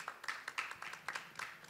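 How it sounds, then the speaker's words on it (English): Light audience clapping at a conference panel, a thin scattering of hands giving a brief, faint round of applause with distinct individual claps audible. "a round of applause for him"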